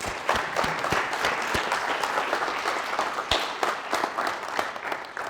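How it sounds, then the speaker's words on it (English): Audience applause welcoming Professor Mike Munger to the stage at a talk on capitalism and democracy: dense, sustained clapping from a large crowd that fills the whole stretch at steady loudness. "Once again, let's give a round of applause."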